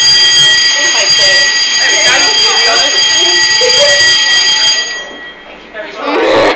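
A fire alarm sounds inside a Pizza Express restaurant, a loud continuous electronic tone with steady harmonics that cuts off near the end, followed by a brief burst of nearby noise.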